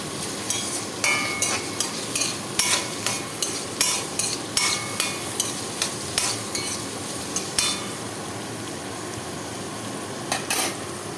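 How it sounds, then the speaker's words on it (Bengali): Onions and cashews fry in a pan with a steady sizzle, punctuated by regular sharp scrapes and clinks of a spatula stirring roughly every half second, close and without talk. "পেঁয়াজগুলো ততক্ষণ ভাজবে যতক্ষণ না পর্যন্ত সব কিছু হালকা বাদামি হয়ে যাচ্ছে।"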